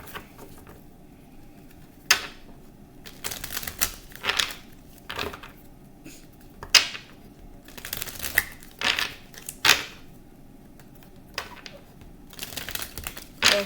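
Tarot cards are shuffled in quick bursts of papery riffling and tapping, close and soft, with short pauses between.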